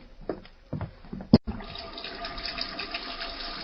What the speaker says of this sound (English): I'll need some hot water. Well, wait, there's a sink over there, Kent.